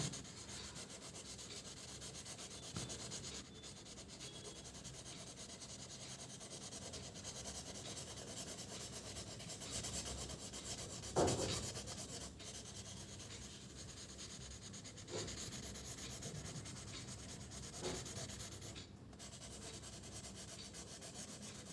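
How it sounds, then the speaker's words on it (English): A crayon colors a picture of a tree on paper, producing a continuous soft scratchy rubbing with occasional louder strokes, close and quiet, with no talking. "I'm coloring one picture of this tree"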